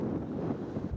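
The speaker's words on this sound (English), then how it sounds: "The open landscape has nothing to block the relentless wind." Relentless wind buffets the microphone across an open, high-elevation Arizona landscape near Route 66, a loud, steady low roar with constant gusting rumble and no pauses.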